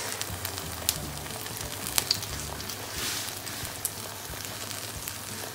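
Zucchini sizzles steadily in a hot frying pan, a soft even crackle with a few faint pops rising above it.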